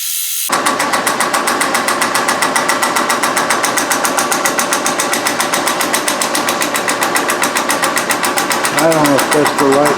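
A machine tool feeds slowly on an arm in a tapping fixture, giving a steady, fast, close mechanical whir with a rapid regular pulse that runs without a break. Near the end a brief rising squeal joins it.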